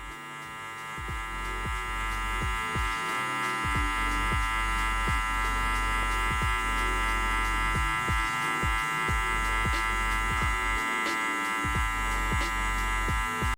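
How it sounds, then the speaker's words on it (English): Electric hair clippers fitted with a one guard buzzing steadily during a taper fade haircut, a close, continuous hum with rhythmic faint clicks as the blade passes through hair, no talking. "I'm gonna go ahead and throw on the one guard"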